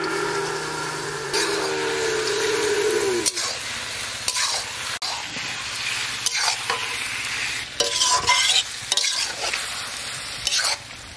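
Chunks of mutton frying in hot oil with whole garam masala, bay leaves and slit green chillies, a steady close sizzle with stirring scrapes and clatter throughout, no voices.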